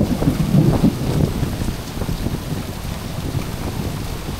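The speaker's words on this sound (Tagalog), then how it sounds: "Ayan na, ulan." Heavy rain pours steadily, a dense wash of noise with a low rumble early on, loud and close with no voices.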